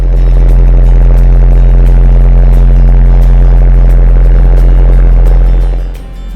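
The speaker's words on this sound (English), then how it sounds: "actually I filmed this with the engine running" A boat engine running underwater, recorded close as a loud, steady low rumble with a rapid pulsing throb that holds constant before fading slightly at the end.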